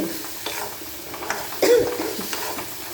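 Dried red chilies, cumin and asafoetida fry in hot oil with a soft sizzle, broken by a few stirring scrapes and clinks, one louder knock near the middle.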